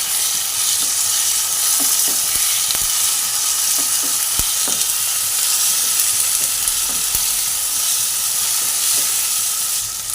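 Tomato paste sizzling and frying in a pan with browned onions, a loud, steady crackling hiss that carries on without a break.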